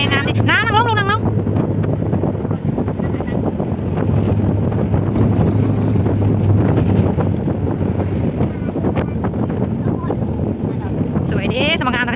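Wind buffets the microphone at a Thai temple during a Buddhist Lent merit-making visit, a constant roar and rumble lasting the whole stretch, with faint voices and passing vehicle noise mixed in.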